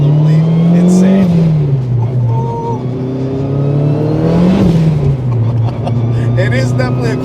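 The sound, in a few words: turbo car engine revving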